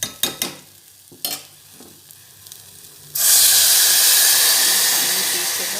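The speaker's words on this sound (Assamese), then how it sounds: "চ' মই এতিয়া ইয়াতে পানী দিম" Water poured into a hot pan of lightly fried vegetables for a baby's dal soup bursts into a loud, sustained hiss and sizzle, following a few sharp clinks and scrapes of stirring.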